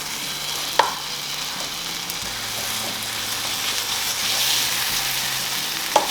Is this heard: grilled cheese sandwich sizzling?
yes